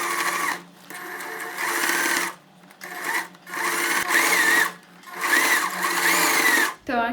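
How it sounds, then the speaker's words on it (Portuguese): A sewing machine stitching a straight skirt seam runs in several loud bursts of rapid whirring, separated by short pauses, close by and with no talking. "E agora eu baixo o pezinho calcador e começo a costura."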